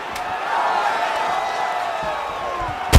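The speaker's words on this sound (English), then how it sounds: "Yeah, the crowd loves the stand-up fight." Crowd cheering in a UFC video game, a steady roar of an arena audience excited by a stand-up fight, sustained and moderately loud throughout with a brief sharper burst at the end.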